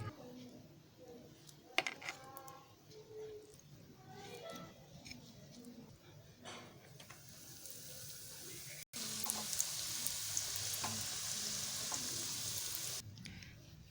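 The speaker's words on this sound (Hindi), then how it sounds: "अब हम इसे फ्राई करेंगे हल्के हल्के हर तरफ से।" Mini bread sandwiches fry in a pan, building to a steady, loud sizzling hiss in the second half. A voice speaks over quieter cooking sounds before that.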